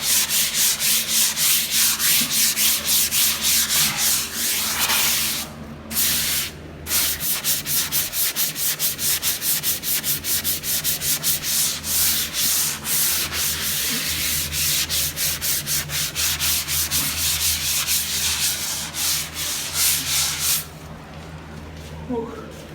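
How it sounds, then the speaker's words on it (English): Plaster skim coat on a wall being sanded smooth by hand, with continuous rhythmic rasping strokes that pause briefly a couple of times, loud and close. "You sand it to where it's nice and smooth."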